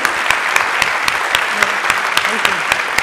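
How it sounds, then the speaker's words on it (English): An audience applauds after a public lecture on pandemic prevention, a full steady patter of many hands with a few louder, closer claps standing out, continuous for the whole stretch. "can we have a hand of applause uh, for Lauren and her fantastic lecture?"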